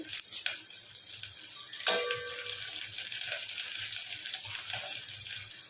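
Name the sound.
green chillies and curry leaves sizzling in hot oil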